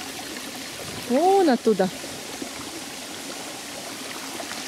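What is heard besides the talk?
small stream trickling above a travertine waterfall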